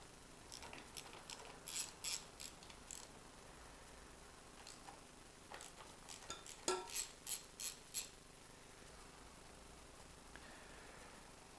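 Ratchet working the 12mm pinch bolts on a DRZ 400 motorcycle front wheel, loosening them: bursts of quick clicking in short runs, close by and fairly faint, with pauses between.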